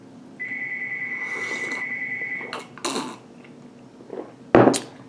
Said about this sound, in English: oh, that phone is driving me crazy